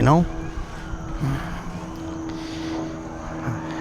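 A steady, rumbling aircraft engine drones overhead throughout, with a brief voice-like sound at the start and a constant background roar.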